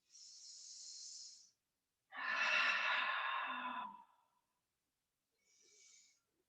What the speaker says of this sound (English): taking a deep breath in